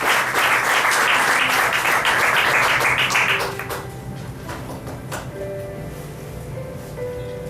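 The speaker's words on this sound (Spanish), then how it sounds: "Dale un aplauso a Él." A church congregation claps loudly together for about three and a half seconds before the applause thins out and fades to a quieter room tone with scattered taps.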